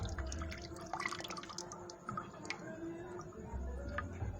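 Blended apple juice drips through a strainer in a home kitchen, making faint, irregular ticking drops with a soft trickle, heard quietly and close by.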